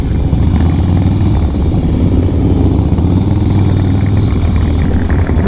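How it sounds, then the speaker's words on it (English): A Harley-Davidson Dyna Wide Glide FXWG motorcycle being ridden on an open road, its engine giving a loud, steady low rumble and clatter that holds throughout with wind noise. "Let's talk about the Wide Glide, which I'm riding now"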